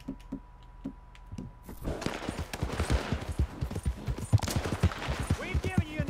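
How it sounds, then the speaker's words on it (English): Rapid gunfire from the video game Red Dead Redemption 2 crackles in bursts at a moderate distance, mixed with scattered thuds and game sound effects, with voices underneath. "I hear gunfire over here"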